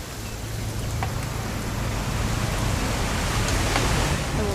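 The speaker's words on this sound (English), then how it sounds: "It's gonna rain the whole weekend" Steady rain in the video game What Remains of Edith Finch, a constant broadband hiss of falling rain with a low hum underneath, heard alone without talk.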